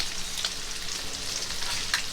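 Carrot pieces tossed into a frying pan with bacon, giving a steady, loud, close sizzle and frying hiss with a few small crackles and no talking.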